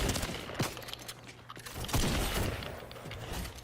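Gunfire in Fortnite OG Season 4: a rapid burst of shots from a game, followed by sharp mechanical clacks and further bursts, loud and close throughout.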